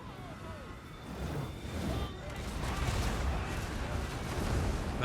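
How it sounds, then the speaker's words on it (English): Magma cannons and other artillery firing in a Total War: Warhammer 2 battle, a continuous roar of booming shots and rumbling impacts that swells toward the end, with someone talking over it. "Magma cannon opening fire as well"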